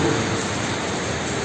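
Steady rainfall makes a continuous, dense hiss throughout, close and even in level, with no voices.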